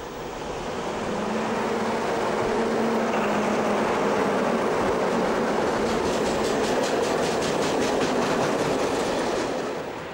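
A diesel locomotive hauls a freight train along rails. The steady rolling roar builds to a loud, close pass, with rhythmic clickety-clack wheel beats in the later part.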